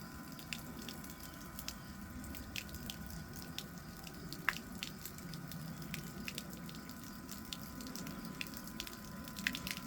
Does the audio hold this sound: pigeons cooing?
no